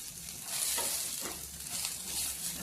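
Garlic cloves sizzle in a hot pan used earlier to fry coriander seeds and green chillies for a Nalleru chettu pachadi. A steady, close crackle of frying runs throughout, broken by a few scraping stirs, with no voices.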